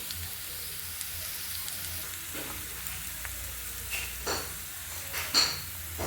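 Ivy gourd (tondli) sautéing in a pan, a steady soft sizzle with occasional scraping stirs and light clinks of a spatula against the pan, close and continuous.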